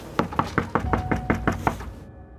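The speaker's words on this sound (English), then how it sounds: "began to give the IFED knock on the door" Police officers knocking hard on a house door during an early-morning insurance-fraud arrest visit: nine loud, evenly spaced bangs in a steady rhythm, close by, with no voices, ending abruptly.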